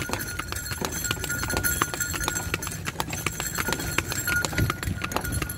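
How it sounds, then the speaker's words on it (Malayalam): Hooves of a horse pulling a cart clip-clop in a steady trotting rhythm near a railway station, mixed with constant street and traffic background noise. "കുതിര വണ്ടിയിൽ യാത്ര ചെയ്യാണ്"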